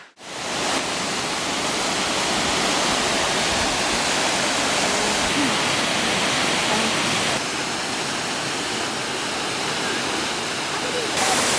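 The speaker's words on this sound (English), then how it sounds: "We are at Thunder Creek Waterfall, which is just over there." Thunder Creek Falls in the rain: a steady, loud roar of falling water fills the whole stretch, broadband and constant, with little variation beyond a slight dip near the end.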